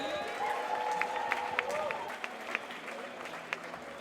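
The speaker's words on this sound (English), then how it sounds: "Can we have a round of applause, please?" An outdoor rally crowd in Brixton claps in a sustained wash with scattered sharper claps, while voices carry on over it.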